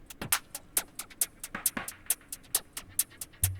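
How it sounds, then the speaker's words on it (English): A techno drum group plays alone, with steady crisp hi-hats over punchy kicks and snare-like hits in a fast, even groove at moderate volume. "I've made this drum group that's going to be the same across the whole video"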